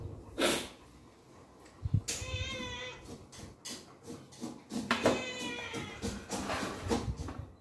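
A cat meows several times in a home kitchen while food is being prepared, the calls drawn-out and fairly close, with clattering and background noise around them and no clear talk.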